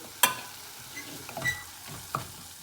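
Goan beef mince, already cooked in a pressure cooker, is stirred in a pan. A gentle sizzle runs under a few sharp scrapes and knocks of the spoon.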